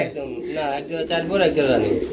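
Fantail pigeons coo in a steady, throaty, overlapping stream close by, with a soft murmur of other sounds in the background.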